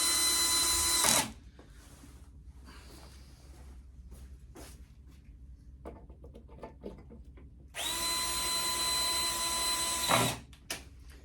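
A power drill or electric screwdriver drives screws during assembly of a 12-inch figure, two loud sustained whirring bursts near the start and again later, separated by quieter handling clatter and bench noise.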